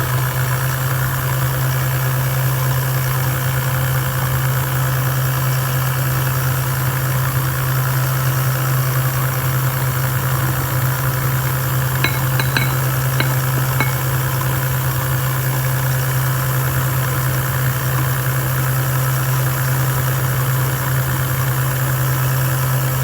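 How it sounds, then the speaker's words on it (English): An electric mixer runs at medium speed beating caramel cake batter, a steady motor hum with a strong low drone, holding evenly throughout and interrupted only by a few faint clicks partway through. "at this point you're going to increase the speed to medium, and you're going to beat till all the sugar is incorporated"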